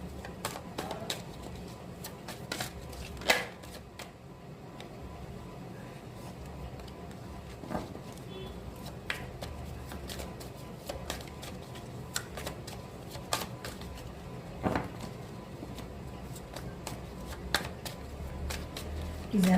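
Tarot cards are shuffled and riffled by hand in a quiet room, giving soft, steady papery flutters and taps that continue throughout at close range.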